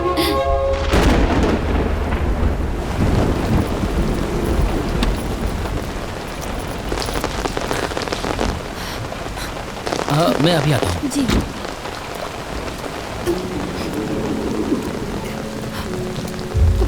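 Heavy rain pours steadily through a thunderstorm while deep thunder rumbles underneath. Brief voices speak over the downpour in a drama scene.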